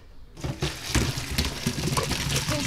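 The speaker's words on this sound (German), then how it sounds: "Den Spargel gießen wir jetzt ab." Cooking water poured off boiled asparagus into a sink, a loud continuous splashing gush that starts abruptly after a brief quiet moment and runs steadily to the end.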